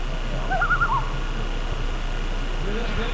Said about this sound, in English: That's the loon.